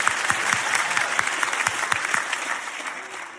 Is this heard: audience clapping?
yes